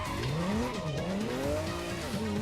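Car tires squeal continuously while drifting in the racing game Ridge Racer Unbounded, a loud, whining screech that rises and falls in pitch over a steady engine-and-road roar.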